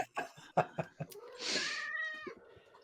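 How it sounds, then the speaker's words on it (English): A cat lets out a screaming yowl, a drawn-out wavering cry rising after a few short sharp sounds, loud and close. "A cat screaming."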